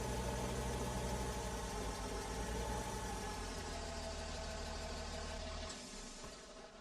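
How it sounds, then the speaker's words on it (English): A small tractor engine idles in Farming Simulator 15, a steady low mechanical hum with a rumbling tone that drops slightly near the end, with no voices. "we'll use a small tractor again here"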